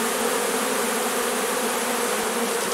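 A huge honeybee swarm pours into a 12-frame Dadant hive, giving a dense, steady buzzing drone that fills the air evenly and closely, unbroken and with no voices over it.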